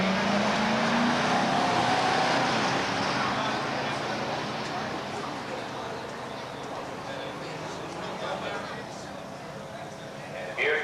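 A 1970 Buick 455 automatic and a 1969 Hurst SC Scrambler with a 390 and four-speed run a drag race: a rising engine whine and roar that fades away, with an indistinct voice faintly underneath.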